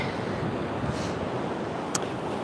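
Wind gusts steadily across the microphone on a horseback trail ride, a constant broadband rush with no pauses and a few faint brief ticks, no talking.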